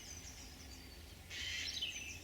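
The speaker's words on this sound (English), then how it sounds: "You hear the jay in the background." A jay calls in woodland, a short harsh screech rising out of a soft hiss of background noise, faint and distant, with no voices present.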